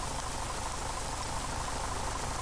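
Steady rain falling in a video game, a continuous dense hiss of raindrops at moderate level throughout, with no voices over it.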